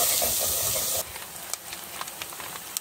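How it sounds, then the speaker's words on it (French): Chopped onion frying in a spoonful of leftover potato-frying oil in a pan, cooked on a camper-van stove. A loud steady sizzle fills the first second, then eases into a softer crackle with scattered pops and spatters. "je fais revenir l'oignon"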